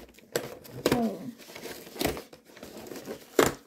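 A Champions Path Pokémon card pack wrapper is torn open by hand, giving a few sharp crinkling rips in short bursts, close up, with no talking.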